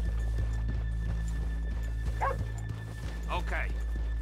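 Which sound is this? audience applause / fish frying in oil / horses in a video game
horses in a video game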